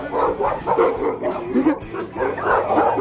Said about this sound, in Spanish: ¡Ay, un dálmata! ¡Wow! ¡Miren cuántos perros!